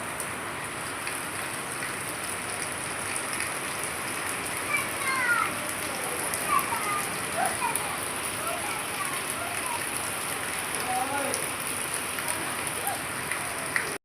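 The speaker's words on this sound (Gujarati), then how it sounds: "જોરદાર વરસાદ પડે છે" Heavy rain pours down in a dense, steady hiss of drops hitting surfaces, with faint voices talking beneath the downpour.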